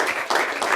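Audience applause, a dense steady wash of many hands clapping together, fairly loud and continuous with slight swells throughout, no voices over it.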